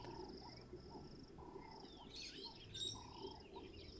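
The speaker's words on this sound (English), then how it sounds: "The brown-hooded kingfisher, as I just called out, you'll just hear it calling right now." A brown-hooded kingfisher calling outdoors in the bush, faint repeated chirping notes rising over a soft low rumble and other distant bird calls, with a brief louder trill near the middle.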